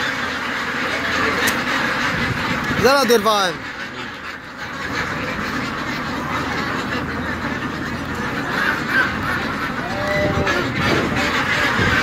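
Large numbers of ducks at a 42-day duck farm quack in a noisy burst, with more quacks later over constant farm background and someone talking.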